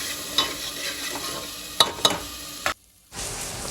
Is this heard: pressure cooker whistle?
no